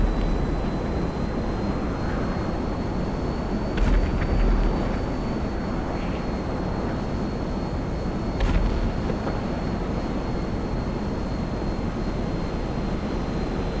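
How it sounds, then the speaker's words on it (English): Stunt planes flying near an airport in GTA Online, a continuous steady propeller-engine drone with two brief louder swells, no talking. "Oh, there are stunt planes."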